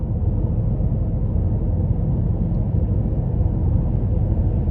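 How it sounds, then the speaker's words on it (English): Cabin hum from a 2021 Cadillac CT5 Premium Luxury with the 2.0 powertrain, riding on 18-inch wheels while driving: a steady low droning rumble, smooth and even, with no voices over it. "what makes this powertrain so great is, even though it sounds sporty, it's not raspy and it's not overly loud. It's like a relaxing hum."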